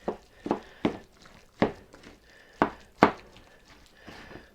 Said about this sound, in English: So now just chopping and chopping until you can see that everything's mixed together.